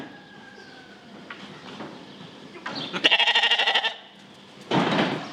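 Lambs on a farm bleat in a few close, wavering calls, one loud pulsing bleat in the middle and another near the end, over a quiet background.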